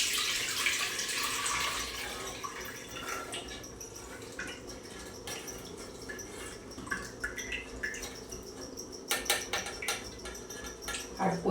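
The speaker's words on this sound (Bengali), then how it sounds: "তো এখন আমি স্টেনারের মাধ্যমে ছানাটাকে ছেঁকে নিচ্ছি।" Whey drains from chhana (curdled milk) as it is strained through a strainer, a close, steady splashing trickle that thins into scattered drips and small clinks.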